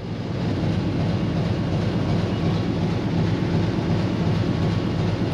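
Submarine engines running in a World War II U-boat simulator game, a loud, steady low mechanical rumble and drone that holds constant throughout with no voices.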